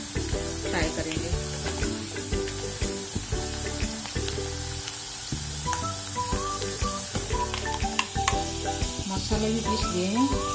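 Potato pieces frying in hot oil toward golden brown for a North Indian pea dal, a steady sizzle with frequent stirring clinks and scrapes throughout.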